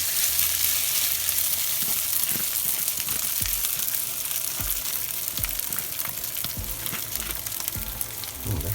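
Grated potato hash browns sizzle steadily in a hot pan, a dense continuous crackle with occasional soft pops and bumps, close and fairly loud with no talking.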